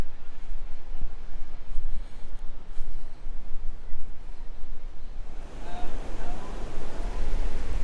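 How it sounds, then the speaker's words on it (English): Wind and surf on a crowded beach at North Myrtle Beach, South Carolina: a loud continuous wash of waves with wind buffeting the microphone, growing rougher toward the end, with faint voices in the mix. "Wind is picking up a little bit more than it was this morning"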